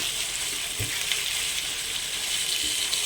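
Chicken pieces for tinola sizzle steadily in a pot while being stirred, with a constant hiss and a couple of soft knocks of the spoon against the pot.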